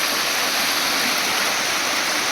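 Babbling water rushing at Maraleshwar waterfall, a dense, steady hiss of splashing flow that stays constant and close with no voices.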